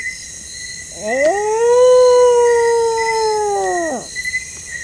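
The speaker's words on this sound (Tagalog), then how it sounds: "Umu tumatahol, umuuwang." A single drawn-out dog-like howl rises, holds steady for about three seconds, then slides down and fades, with faint background hiss.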